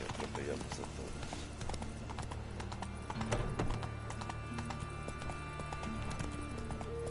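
Hooves of Roach, a horse in The Witcher 3, clip-clop in a steady galloping rhythm throughout, with game music and ambience underneath and a brief whinny partway through.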